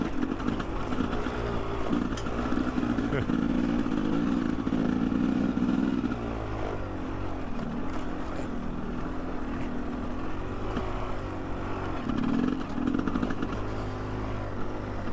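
A Honda XR650R dirt bike ridden slowly, its engine a steady low drone throughout, briefly louder at moments with a strong low hum, no talk over it.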